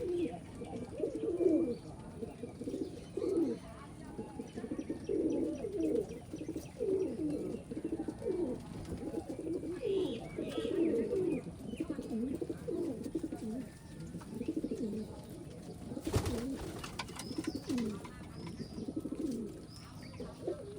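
Pigeons at a pigeon farm coo continuously in overlapping low, throaty phrases, a dense steady chorus from several birds close by, with occasional faint chirps and a brief rustle near the end.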